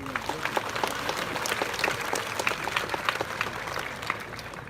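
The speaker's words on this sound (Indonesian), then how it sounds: "Tepuk tangan untuk beliau." Crowd applause at the PKB 2022 opening ceremony at Ardha Candra Art Center, a burst of many hands clapping close and loud, fading slightly toward the end.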